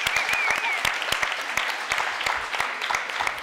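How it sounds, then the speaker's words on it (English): Audience applause at a city council candidates forum, honoring the moderator, crisp sharp claps in a lively steady patter through the whole moment, with a faint whistle or voice above it. "How about a round of applause for our moderator, Marcus Serta?"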